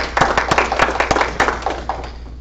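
Short burst of applause at a Sigma Theta Tau International nursing honor society induction ceremony, a modest audience clapping in uneven sharp claps that thin out quickly, fairly close.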